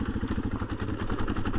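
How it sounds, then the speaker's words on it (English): A 2024 KTM 500 EXC-F dirt bike on stock ECU mapping lugs in second gear, its single-cylinder engine chugging in a rapid, steady pulse, close and fairly loud with no voices. "it's just barely chomping in second"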